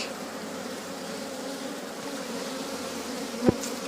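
A steady, dense buzzing of many honeybees throughout, close by at an open hive frame, with a brief sharp knock near the end.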